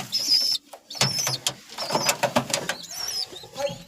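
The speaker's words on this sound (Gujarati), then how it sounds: "હવે કબૂતરો" Pigeons coo in a loft where a pair sits with their chick, with soft repeated calls, wing shuffles and bird chatter close by amid varying background noise.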